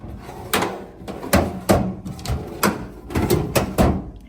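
Drawers of a Master Mechanic metal tool box sliding open and shut several times in quick succession, each a sharp rattling clack with metallic rumble, close by and with no talking.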